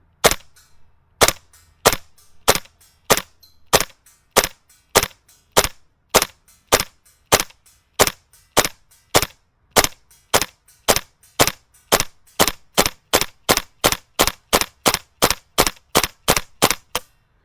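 A WellPro AK12 gas blowback airsoft rifle fires BBs in a long series of sharp, loud, evenly spaced single shots that speed up near the end, with no talking.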